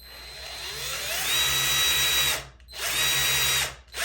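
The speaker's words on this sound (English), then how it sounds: "I'm going to drill a pilot hole." Power drill with a 5x64 bit boring a pilot hole for a Delta sliding shower door rail, in two close, loud bursts whose motor pitch rises and holds before each cuts off.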